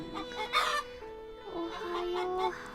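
Chickens cluck and squawk in a coop in the Summer Pockets game, several close, loud calls in quick succession with tonal clucking continuing underneath.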